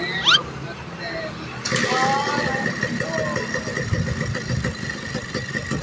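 A motorcycle engine starts and settles into a steady running idle close by, with people talking over it throughout.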